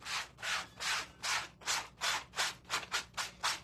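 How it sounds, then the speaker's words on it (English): A board eraser scrubs leftover paste off a screen-printing screen in brisk back-and-forth strokes, about nine rhythmic rasping passes, close and fairly quiet, with no talk. "grab a board eraser, and clean off all the rest of that paste that is in the screen"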